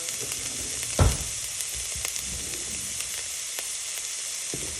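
Onions sizzle and fry steadily in a hot pan while plantain fritters are cooked, with one sharper splash as they hit the oil and light stirring scrapes after.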